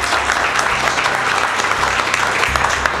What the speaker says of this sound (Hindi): सबसे पहले जोरदार ताली बजाओ मिलन सर के लिए भाई।